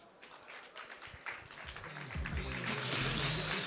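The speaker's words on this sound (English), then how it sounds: "give her a round of applause" An audience at a Copenhagen diversity and inclusion talk claps for an arriving presenter, with scattered, uneven clapping that swells and grows denser toward the end.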